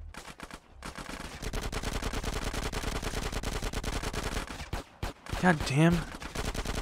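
Rapid, continuous SMG fire from GTA San Andreas rattles in tight bursts, close and steady across the scene, broken by a brief pause and a short spoken exclamation before shooting resumes.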